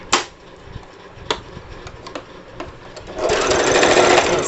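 Sewing machine stitching a salwar runs in a loud, steady burr from about three seconds on, after a few sharp clicks and brief starts from the machine and fabric handling.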